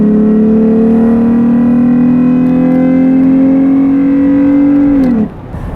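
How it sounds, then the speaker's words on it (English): A 2017 Toyota 4Runner engine with a K&N air intake revving, a loud, close, sustained tonal engine note that holds steady for about five seconds, then drops off as the revs fall. "the intake is actually not that loud until you get on it"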